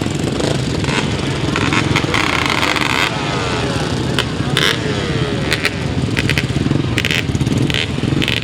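Grasstrack solo motorcycles from 50cc to 250cc race at a 2007 open meeting, their engines rasping and buzzing loudly as they pass, with sharp bursts of revving over a constant roar from the field.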